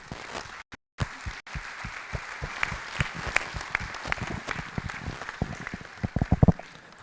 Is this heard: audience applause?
yes